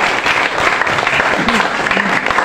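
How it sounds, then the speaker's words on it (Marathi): An audience at a school event applauds to congratulate teachers in a dense, continuous burst of clapping that holds at an even loudness throughout. "पुन्हा एकदा जोरदार टाळ्या वाजवून आपण यांचं अभिनंदन करूया मित्रांनो"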